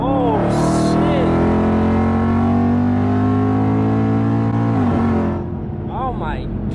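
A Whipple-supercharged Ford Mustang GT making about 900 wheel horsepower accelerates hard, its engine note climbing in a loud, sustained roar with a supercharger whine before easing off near the end, while people talk excitedly over it.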